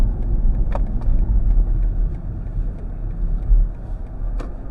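A 2024 BMW iX2 xDrive30 M Sport on big wheels drives over rough roads, giving a constant low rumble of tyre and road noise from inside the cabin, with occasional light knocks.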